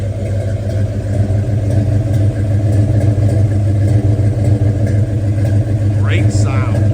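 A cold 1969 Chevrolet Chevelle V8 runs with a deep, loud, steady idle rumble as light throttle is given, close to the car; a brief higher tone near the end.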